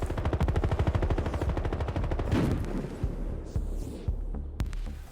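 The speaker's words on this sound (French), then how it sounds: "j'ai commencé à tirer, mais il m'a eu au fusil à pompe" Rapid automatic gunfire from multiplayer Battlefield Hardline: a dense, loud burst of shots fills the first two seconds, then a few scattered single shots and thuds follow.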